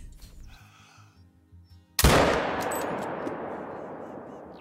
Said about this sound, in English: I think we could probably take that shot right there